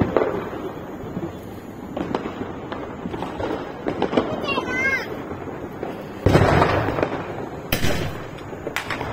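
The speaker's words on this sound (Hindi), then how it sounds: "अब ये जला रहे हैं स्काई शॉट।" Diwali sky shot fireworks are lit outdoors, giving a couple of sharp bursts and crackling pops among festive background noise, with a brief whistling rise in the middle and people talking throughout.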